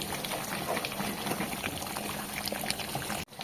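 Mutton sizzling and bubbling as it braises in a pan, a steady close simmering hiss with soft liquid crackle throughout, breaking off abruptly near the end.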